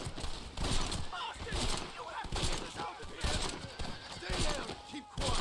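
High-power pistol gunfire in Red Dead Redemption, sharp repeated shots in a rapid fusillade rising above a busy game soundscape with horse hooves, while someone talks throughout.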